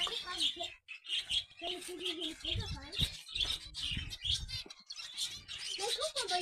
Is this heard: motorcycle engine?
no